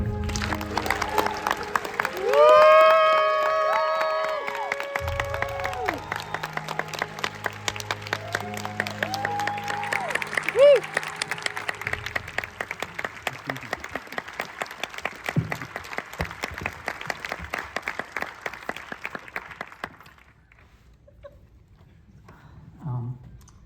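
A large audience at an Oppenheimer Q&A in New York applauds steadily for about twenty seconds, dense clapping mixed with cheers and whoops, under music with voices, before fading to quieter room noise.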